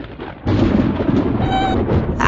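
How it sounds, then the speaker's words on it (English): Thunder breaks in with a sudden loud rumble after a quieter opening, then keeps rolling in a dense, noisy roar. "It's thunder."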